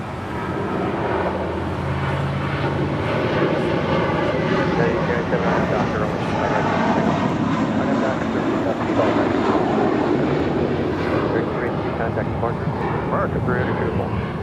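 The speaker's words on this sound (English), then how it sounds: "This is American Airlines 382 departing to Boston on the A321." An American Airlines A321 departing LAX for Boston gives a steady, broad jet engine roar that holds throughout, with people talking over it.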